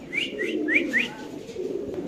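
A pair of pigeons for sale makes four short, close, bright calls in quick succession, followed by a quieter stretch with a low background murmur.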